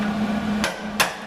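Hammer and punch strike the metal of a Chevy Astro or GMC Safari van around plug holes on the radiator core support, three sharp, close metallic hits at uneven intervals over a steady low hum.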